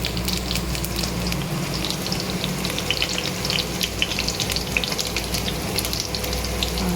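Small onions sizzle steadily in hot coconut oil in a pan, a dense continuous frying hiss with faint crackles and a low steady hum underneath, no talking.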